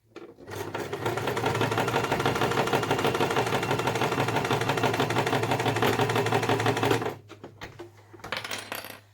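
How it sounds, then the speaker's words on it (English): A sewing machine stitches two pieces of lining together for a beauty pouch, running in one steady, loud, fast-whirring burst for about seven seconds before stopping, followed by a few faint handling clicks. "Making sure you're only sewing those 2 pieces of lining together."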